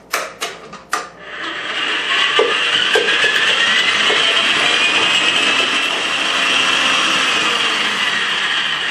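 Electric mixer creaming butter, starting with a few knocks and short bursts before settling into a loud, continuous whirring drone close by with a faint rhythmic beater scrape.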